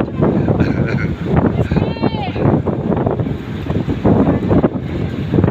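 Strong wind roars during a dust storm in Dubai, buffeting the microphone with loud, continuous rushing gusts while people talk over it.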